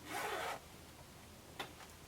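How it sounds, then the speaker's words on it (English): A clothing zipper is pulled open in one short, close, quiet rasp, followed by a faint brief slide moment later. "Now we're going to open our zipper"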